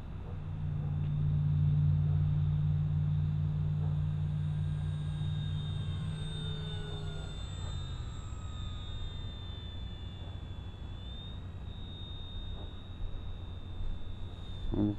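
An E-Flite P51D Mustang 1.2 m electric RC warbird, running a 3s battery, flies steadily at half throttle, a continuous droning whine with shifting pitch as it passes, fairly distant and steady.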